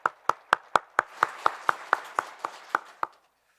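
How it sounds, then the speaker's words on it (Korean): A church congregation at Sunday worship claps in encouragement, about fourteen crisp claps in an even, brisk rhythm that then stops abruptly, with no talking. "우리 격려의 박수 한번 쳐주면 좋겠습니다"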